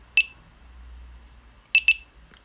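A Delkim Rx-D bite alarm receiver giving short, sharp electronic beeps close by: one single beep, then after a pause a quick pair, with near-silence between them.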